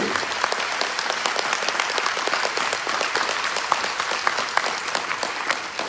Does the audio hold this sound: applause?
yes